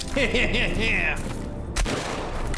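A Modèle 98 rifle firing in a war video game, a sharp shot bursting out amid a busy soundscape of game effects, with a voice talking and tonal sounds in the opening second.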